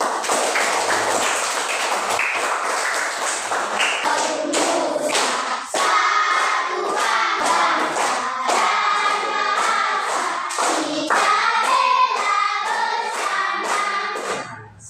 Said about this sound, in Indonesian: Adrina, tepuk tangan dulu untuk itu.